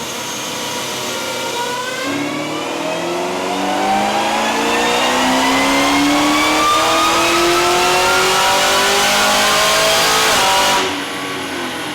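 A 2018 Chevrolet Camaro ZL1 with a 10-speed transmission roars through a full dyno pull, the engine note climbing steadily and loudly for several seconds before cutting off abruptly near the end.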